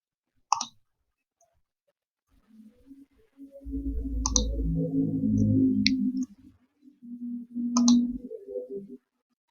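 Three sharp, isolated computer mouse clicks spaced a few seconds apart, with a soft low hum or murmur in between.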